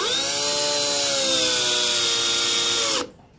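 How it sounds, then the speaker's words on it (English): A power drill drives pocket screws into a drawer box joint in a woodworking shop, a steady loud whine rising in pitch as the screw seats, then stopping abruptly near the end. "I want to put these screws in very carefully, and we just wanted to pull that joint tight like a clamp would"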